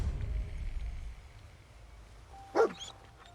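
A dog in the video game Fallout 4 gives a single short bark after a few seconds of low rumbling ambience, fairly close and clear.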